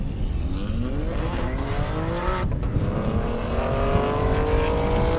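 A BMW drag racing car at an airstrip half-mile drag event, its loud engine roaring steadily with rising and falling revs and a passing whoosh, heard continuously at close to moderate range.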